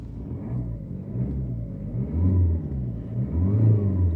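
A 2014 Ford Focus engine running shortly after a cold start, a steady close mid-pitched rumble that swells slightly in two gentle surges, heard alone without talk.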